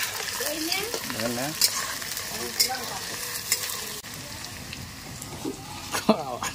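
Onions frying in a pan for a local chicken curry sizzle steadily while being stirred, with scraping clicks and a person talking over the cooking.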